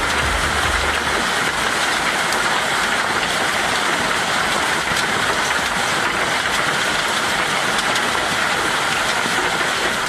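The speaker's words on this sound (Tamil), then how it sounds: "ராஜஸ்தானில் திடீரென கொட்டி தீர்த்த ஆலங்கட்டி மழையின் காட்சிகள் தான் இவை." Heavy hailstorm in Rajasthan, a dense and steady roar of hail and rain striking surfaces that continues loud and unbroken throughout, with no voices.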